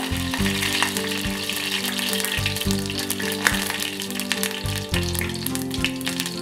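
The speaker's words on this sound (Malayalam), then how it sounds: "കടുക് പൊട്ടിക്കഴിഞ്ഞിട്ട്" Mustard seeds splutter and crackle in hot coconut oil while a Kerala mango pachadi is prepared, giving a steady stream of sharp pops and hiss beneath continuous background music.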